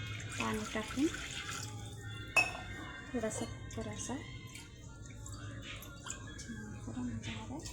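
Water is poured into a pressure cooker in a kitchen, with soft splashing and dripping mixed with light clinks of pots and utensils, low and close. Someone talks over it.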